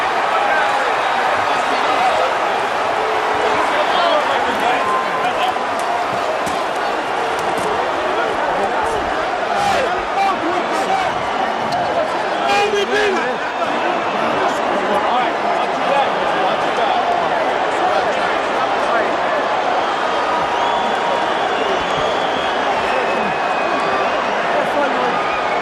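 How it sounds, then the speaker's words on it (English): A stunned boxing arena crowd at the MCI Center in Washington, D.C., after a heavyweight fight ends, fills the space with a dense, continuous roar and murmur, loud and steady throughout, with scattered claps and shouts. "A stunned crowd here at the MCI Center in Washington,"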